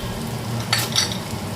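Spices, chili powder and sambar powder frying in hot oil, a steady close sizzle with a brief brighter crackling burst partway through, no voices.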